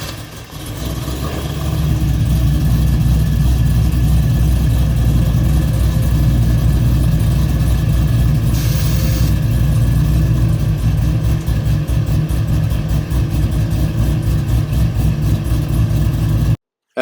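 A bagged Chevrolet Silverado pickup fitted with Accuair air suspension starts up and settles into a loud, steady idle with a deep rumble, close by and without talk.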